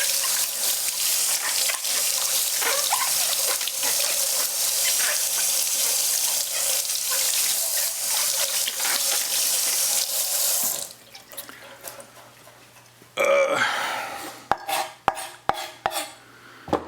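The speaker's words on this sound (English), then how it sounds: "now we're still going to rinse it off because I like to rinse everything off" Water runs from a kitchen sink tap to rinse a cucumber, a loud steady rush that cuts off partway, followed by clinks and knocks of dishes and handling in the sink.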